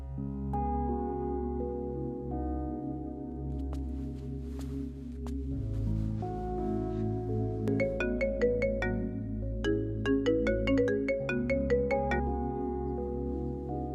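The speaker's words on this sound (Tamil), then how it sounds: "அந்த சந்தோஷ் வேற ஃபோன் பண்ணிட்டே இருக்கான்." An incoming-call phone ringtone in a Tamil film scene plays a repeating electronic melody for about fourteen seconds, steady and fairly loud with no voices over it.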